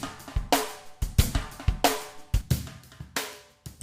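A drum kit heard without overhead mics or Unfilter processing plays a steady groove of punchy kicks and snare hits with sharp attacks and quick decays, close and fairly quiet, with no voices.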